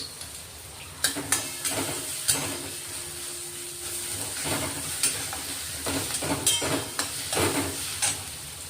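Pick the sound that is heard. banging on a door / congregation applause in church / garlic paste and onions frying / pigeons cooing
garlic paste and onions frying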